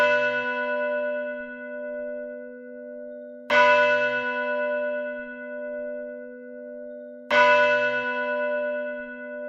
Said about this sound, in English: He rang the bell to call the people to worship